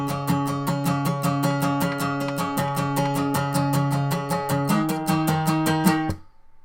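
Steady acoustic guitar strumming in an even rhythm, close and bright, a chord transition pattern leading into the chorus of a song from Your Name, ending abruptly after about six seconds.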